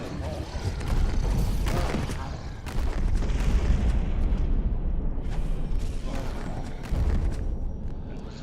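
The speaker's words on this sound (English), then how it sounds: "That was magic missile, arcane bolt, evocation 3 chain missiles, and the arcane blast." Spell effects from a wizard and warlock game character: rapid magic missile and arcane bolt volleys build into heavy, booming arcane blast explosions. The bursts are loud and dense and come in quick overlapping waves across the whole stretch.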